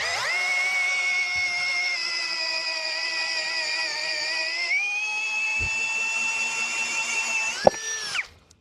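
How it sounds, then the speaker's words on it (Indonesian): Huber HBD2116 brushless 21V drill driving a 25 mm spade bit, a loud steady high whine held for several seconds with a slight pitch shift midway, then winding down to stop. "Modenya mode drill. Ini peskat ukuran 25 mili."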